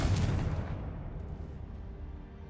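Confringo explosion spell in the game Hogwarts Legacy: a single deep, booming blast at the start, followed by a rumbling tail that fades over about two seconds.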